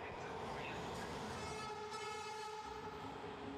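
Busy train station ambience with a steady, dense wash of rail noise and a low rumble, a faint horn-like tone rising partway through, no voices standing out.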